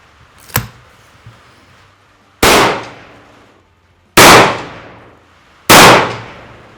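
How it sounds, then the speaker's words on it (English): Three loud, sharp rifle shots from a 300 Blackout rifle crack at steady intervals of about one and a half seconds, each with a short decaying echo, after a fainter earlier click and pop. "let's shoot a quick 3-shot group"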